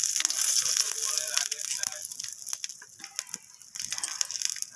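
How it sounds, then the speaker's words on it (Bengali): Dried red chillies, whole cumin and bay leaves sizzle in hot oil, tempering for a fish curry with potato and aubergine. The hiss is close and steady, with crackles and spits throughout. "তো আমি তেলের মধ্যে ফোড়নে দিয়ে দিলাম দুটো শুকনো লঙ্কা, গোটা জিরে, আর দিয়ে দেবো এখানে দুটো তেজপাতা।"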